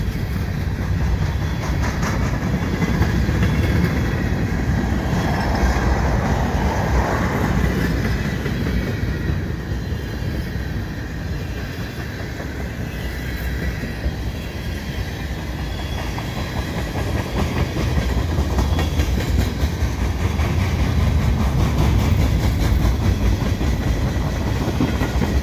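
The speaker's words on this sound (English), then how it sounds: "That's the end of the train right there. With the flashing light." A CP freight train rolls steadily through Dorval in winter, its wagons rumbling and clacking over the rails for the whole stretch, with a continuous hiss and no talk.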